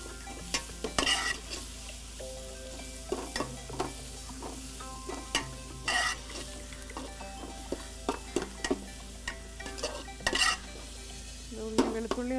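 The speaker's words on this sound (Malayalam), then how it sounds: "വെളുത്തുള്ളി ഒന്ന് മൂത്ത് വരാം." Garlic frying in a pan and being stirred, a low steady sizzle under repeated scraping and clinking of a utensil against the metal pan, close by and without talk.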